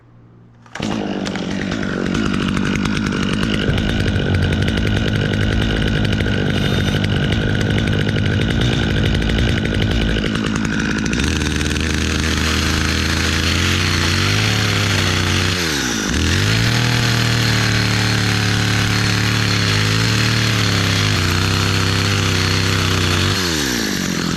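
A chainsaw fitted with a Log Wizard peeling attachment runs loud and steady, with the engine pitch dropping and rising a few times as the blade bites into a log.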